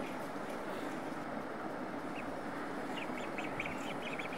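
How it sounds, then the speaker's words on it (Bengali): Faint, high peeping calls from a few young native domestic ducklings, chirping repeatedly over a steady background hum. "এই পাশে আমাদের দেশি হাঁসের বাচ্চা আছে কিছু।"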